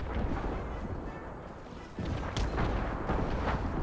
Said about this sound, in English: The enemy's counter barrage is coming in.